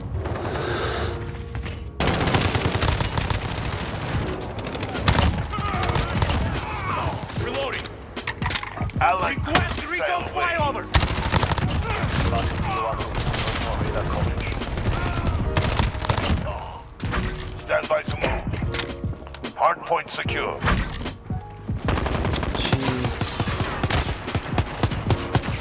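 Rapid video game gunfire from a shooter match in an Atlas Superstore map, dense bursts and mechanical clatter running almost continuously at steady loudness for the whole stretch.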